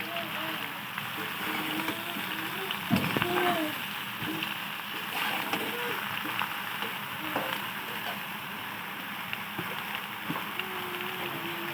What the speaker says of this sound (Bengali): ঝিঙে আলুটি দিয়ে দেবো ভালো করে ভেজে নেব